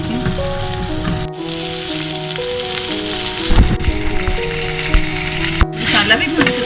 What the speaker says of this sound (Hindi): मसाला भी भून चुका है और ये गोभी की डंडियाँ भी गल चुकी हैं तकरीबन थोड़ी सी